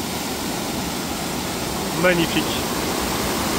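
A large waterfall cascades nearby. Its steady, dense rushing roar fills the whole scene, and one person makes a brief spoken exclamation partway through.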